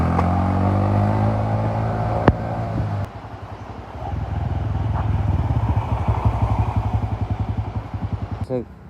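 A motorcycle engine idles and then revs with a steady chugging rhythm, close by, with a person talking over it at times.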